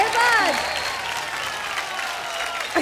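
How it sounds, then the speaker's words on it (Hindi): A crowd at a music awards show breaks into loud, sustained applause, a dense steady clapping that carries on while a voice speaks over the top at the start. "पेपुन दादा के लिए जोरदार तालियां"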